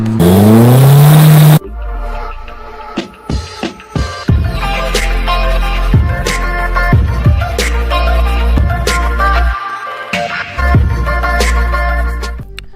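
A VW Passat engine revs up loudly and briefly as the car pulls away, cutting off after about a second and a half into a dense, steady stretch of music.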